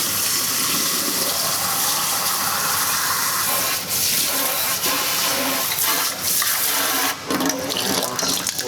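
Water rushes and gurgles steadily down a kitchen sink fitted with a garbage disposal as it is cleared, a loud continuous hiss with a few brief dips and splashes.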